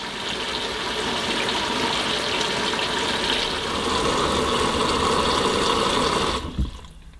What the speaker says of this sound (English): I'm ready to turn on the tap and start filling the Washboy with water.